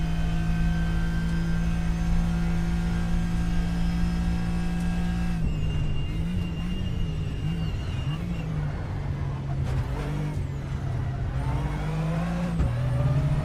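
Porsche GT3 race car engine lapping Monza in a racing sim, a loud steady high-revving drone that shifts pitch through gear changes and braking, continuous throughout.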